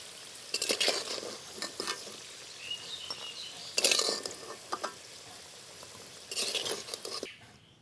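Potatoes frying in oil as a pan is stirred, with bursts of sizzling and scraping in a few loud clusters separated by quieter stretches of crackle, close by and with no talk.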